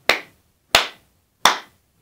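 Three sharp hand claps, evenly spaced about two-thirds of a second apart, sound close and crisp in a quiet room, made to test a keychain finder that responds to whistling.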